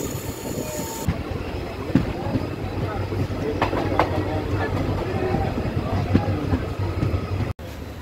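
The Dekargaon-Murkongselek express train pulling into Silapathar station, a steady rumble of rolling carriages with occasional clanks and wheel knocks, heard from inside with faint background voices.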